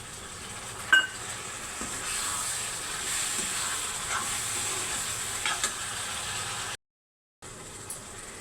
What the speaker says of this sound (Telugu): ఇప్పుడు కోసి పెట్టుకున్న టమాటా ముక్కలు వేస్తున్నాను.